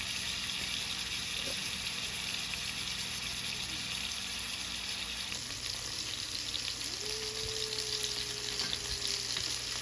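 Steak fries in a warm pan with a steady, close sizzle and crackle lasting throughout, while a faint whistling tone rises briefly near the end.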